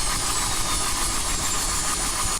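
A helicopter engine runs in a helicopter simulator game, a loud, steady, broadband roar and hiss with a faint high whine, continuing evenly before cutting off abruptly at the end.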